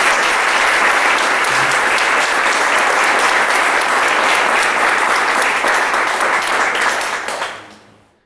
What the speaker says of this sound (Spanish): Así que una vez más les daremos un fuerte aplauso,